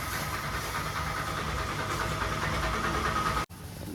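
A tractor engine runs at a tractor washing service station, a loud steady broadband rumble and whoosh that dips sharply for an instant near the end, with no talking.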